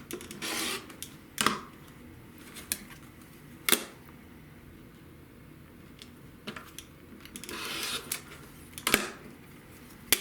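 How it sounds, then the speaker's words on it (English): Quilt fabric pieces being cut: several short, sharp rasping strokes, some in quick pairs, separated by quiet stretches, fairly soft and close with no talking. "We take this piece and we cut it with the right sides down."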